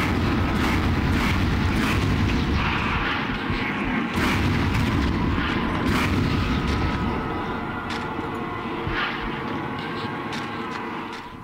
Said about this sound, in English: I do have some chain gun ammo at this point, so I can just kind of mow them down as they walk in.